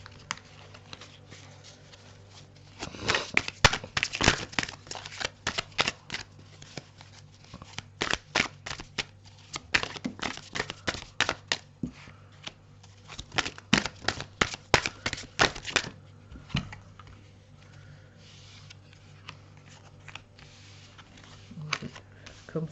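Tarot cards are shuffled for a new four-card spread in a quick burst of crisp, papery riffles and taps, close and fairly loud, then stop into quiet.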